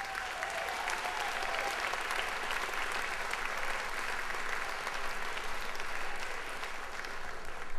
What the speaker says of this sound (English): Let's have a round of applause for the sixth grade band.